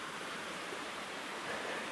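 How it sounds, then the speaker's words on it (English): Steady broadband rush of the Spango Burn, a water course running through a deep ravine, filling the whole stretch at moderate level with no voices over it. "It's essentially quite a kind of a deep ravine with a water course running through it."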